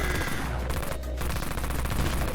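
Rapid, dense automatic fire from the Dawn Mag weapon in the Dead Frontier shooter game, a continuous loud stream of shots with no pauses across the whole stretch.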